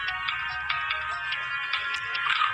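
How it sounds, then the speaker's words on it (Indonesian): A phone notification tone plays a bright electronic chime, pulsing in quick repeated beats for a couple of seconds over a quiet low hum. "Sudah dapat notifikasi"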